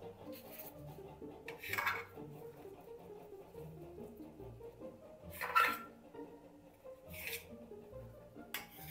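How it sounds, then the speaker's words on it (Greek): Potatoes being cut in a baking dish give quiet scraping clinks of a utensil against the dish, a few separate short scrapes spaced apart in a calm kitchen without talk. "Τις κόβουμε λίγο ακόμα."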